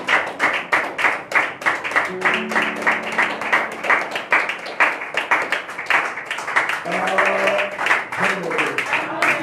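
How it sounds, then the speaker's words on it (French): A congregation at a French-speaking Sunday church service claps in a steady, rhythmic beat, with loud applause continuing throughout under voices and singing. "Nous acclamons pour la parole du Seigneur"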